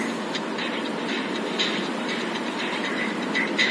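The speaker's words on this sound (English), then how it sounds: "Here, two trains are running on parallel tracks." Trains roll along railroad tracks with a continuous loud rumble and faint rhythmic clicking from the rails, steady throughout with no voices.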